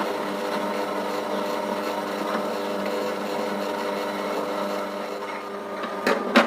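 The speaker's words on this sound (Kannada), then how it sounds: "ಈಗ ಮಿಕ್ಸಿನಲ್ಲಿ ರುಬ್ಬೋದನ್ನು ತೋರಿಸ್ತಾ ಇದ್ದೀನಿ" A kitchen mixer grinder whirs steadily as it grinds soaked dal with a little water into a paste for obbattu filling, a continuous mid-loud hum with a brief clatter at the end.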